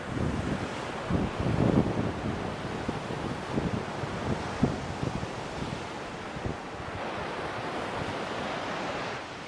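Ocean waves on a free public beach in Thailand roll and wash steadily, with strong wind buffeting the microphone throughout. There is no speech.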